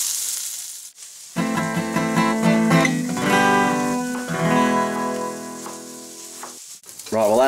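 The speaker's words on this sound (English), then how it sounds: "And I'm going to fry those as well. Just fry those until they're cooked." Loud, steady sizzling of potato slices frying in oil for a Spanish omelette, with a strong tonal hum layered over the crackle and a brief break midway.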